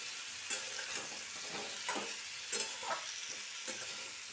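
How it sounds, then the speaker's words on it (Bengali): Spiced potatoes with salt and turmeric for a vegetarian aloo dum sizzle steadily in a pan as a spatula stirs and turns them in several soft scraping strokes. "আবার উপর নিচ মানে ওরপালট করে নিয়ে আবার ঢাকনাটা দিয়ে দিলাম"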